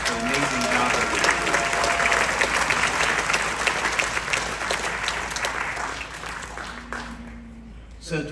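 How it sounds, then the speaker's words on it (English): Loud, sustained applause and some cheering fill a 20th anniversary celebration hall, a thick crowd of clapping that slowly tapers, with a voice speaking through the later part. "please give yourselves a round of applause"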